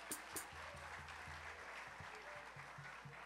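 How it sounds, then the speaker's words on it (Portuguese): An audience at a radio music festival awards ceremony claps together in a steady wash of applause, fairly faint and distant, with a low hum underneath. "Salva de palmas!"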